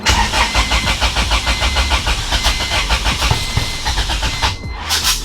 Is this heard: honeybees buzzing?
no